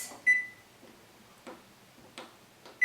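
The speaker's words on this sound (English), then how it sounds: "we are going to put a timer on 11 minutes" Kitchen oven timer being set to 11 minutes while baking chicken cutlets: a short electronic beep followed by a few soft, evenly spaced clicks, faint and close, with no talking.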